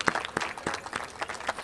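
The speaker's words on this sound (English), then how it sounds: "give them a round of applause" At the Pool Safely 2011 launch event in Chula Vista, a modest audience gives scattered applause: individual claps stand out in an uneven rhythm, fairly faint and thin rather than a full roar.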